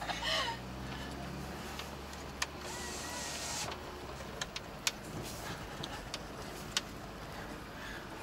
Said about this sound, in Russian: Митсубиси едет.